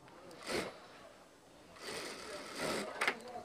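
Sewing machine stitching the hem of a dhoti salwar, with faint short whirring bursts, a soft run near the start and a longer one later, under a quiet room background.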